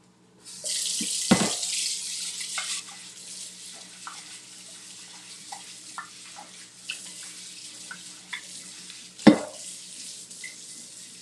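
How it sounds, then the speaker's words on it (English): Hot water runs steadily from a kitchen tap into a sink, a continuous bright hiss with a few splashy surges as things are moved under the stream, with no talking. "I'm going to go ahead and get this under the hot water."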